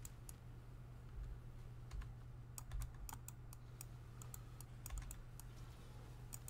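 Computer keyboard typing during a Path of Exile game session: steady clusters of light, close clicky keystrokes over a constant low hum, with no talking.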